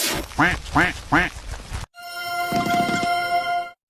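A cartoon duck in a children's animal video quacks three times in a quick rhythm, loud and close, and then a higher-pitched animated animal call follows over a bright musical tone.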